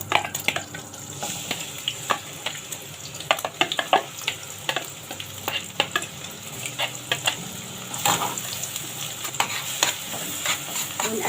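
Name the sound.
onions frying and being stirred in olive oil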